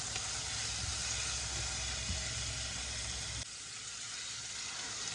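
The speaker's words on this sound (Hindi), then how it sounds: "इसके बाद हमने गार्लिक पेस्ट डालना है। इसे हमने अच्छी तरह फ्राई करना है।" Garlic paste sizzles in a hot pan while cooking a namkeen gosht, a loud steady hiss and crackle that drops abruptly to a softer sizzle partway through.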